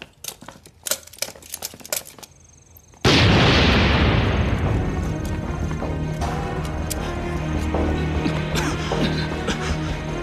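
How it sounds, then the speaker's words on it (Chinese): A big explosion in a prison-break war film erupts after a few seconds of scattered clicks and short sounds, a sudden loud blast followed by a long roaring, rumbling decay full of debris and crackle. "四楼爆炸了！"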